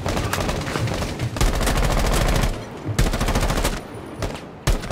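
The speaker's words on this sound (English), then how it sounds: "Oh wow, that shotgun one shot" Gunfire in Rainbow Six Siege, including a shotgun blast, comes as loud, rapid bursts of sharp reports broken by brief pauses, with no talking.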